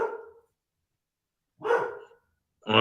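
A dog barks three times in short, separated bursts, close and loud, with silence in between and no talking.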